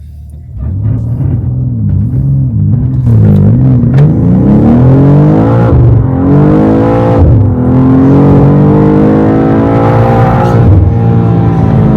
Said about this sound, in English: So now we will do the launch control and we'll see how fast it is and how fast it does 0 to 100 km per hour.